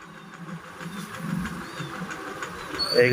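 A moving train rumbles along with a low, steady roll and faint rhythmic clatter from the carriage, growing slightly louder toward the end, with a brief high squeal at the close.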